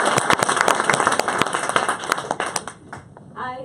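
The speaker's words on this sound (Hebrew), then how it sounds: "קבלו במחיאות כפיים סוערות את גלית" An audience claps in brisk, scattered applause at a Go Public talk welcoming speaker Galit Zamler, steady for about three seconds before tapering off as a voice begins speaking.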